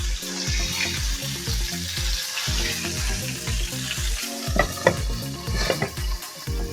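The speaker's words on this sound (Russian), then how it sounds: "А пока что смотрим, как мы жарим рябушку." Small vendace fish sizzling and crackling in a hot pan, a steady busy frying hiss with scraping and clinking as the pieces are turned.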